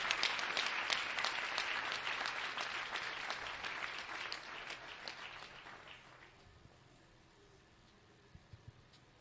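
A church congregation applauds loudly and steadily to acclaim the Holy Spirit during a prophetic worship service, the dense clapping thinning and fading out after about six seconds, leaving a quiet room with a few faint knocks.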